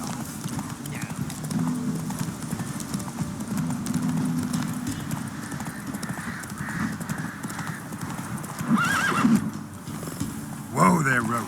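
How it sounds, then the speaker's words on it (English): Hooves clip-clop steadily as a horse gallops in The Witcher 3 video game, with a loud whinny near the end and a voice calling out over the hoofbeats and game music. "Whoa there, Roach. Hey-ya!"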